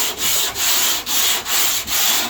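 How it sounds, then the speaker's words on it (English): A hand sander scuffs surface rust off a new metal Chevy Silverado truck fender in five quick back-and-forth strokes, each a bright, gritty rasp with brief dips between. "I'm just using this hand sander"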